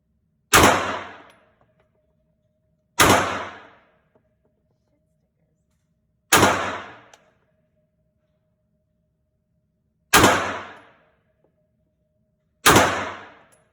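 Five loud, sharp handgun shots at a shooting range, each alone and spaced a few seconds apart with a short ringing decay, close to the listener with quiet in between.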